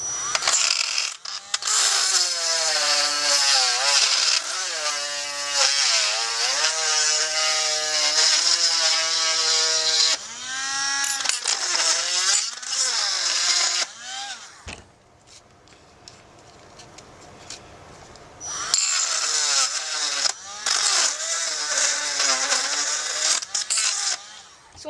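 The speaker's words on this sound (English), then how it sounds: "Next, you Dremel out right there," Dremel rotary tool cutting a plastic tab on a toy, a loud close high whine that shifts in pitch under load, pausing briefly midway before starting again.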